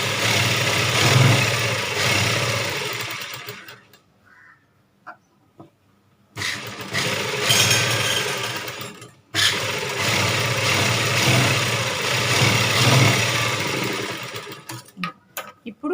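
Sewing machine running a long stitch on a blouse, loud steady whirring in two long bursts separated by brief pauses and light handling noises.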